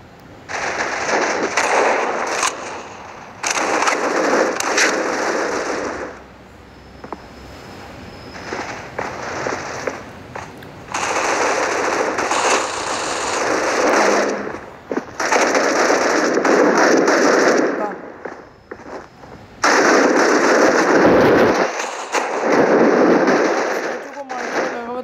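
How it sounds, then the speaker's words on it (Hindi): Heavy gunfire in the mobile shooter game C OPS, long loud bursts of automatic fire broken by short pauses, with a voice talking over parts of it. "भारी फायरिंग।"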